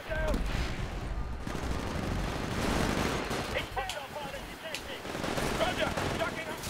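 Sustained gunfire in the shooter Titanfall: dense rapid automatic fire and overlapping shots rattle continuously at a loud level, with excited voices talking over the battle.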